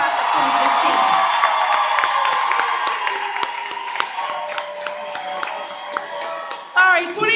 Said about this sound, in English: please give a large round of applause for each of our two class of 2016